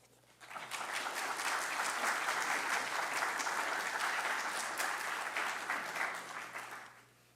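Steady, full applause from a seated audience at a Georgetown lecture event swells in after a brief pause and holds at an even, dense level for several seconds before tapering off.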